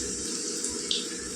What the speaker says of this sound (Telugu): ఇందులోని తగినన్ని నీళ్ళు వేసుకుందామండి.